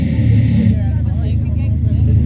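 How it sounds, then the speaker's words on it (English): Car pulling away at a street demonstration in Telford, a close engine rumble that builds briefly as it moves off, with someone speaking over it. "They've entered their car and they're pulling off."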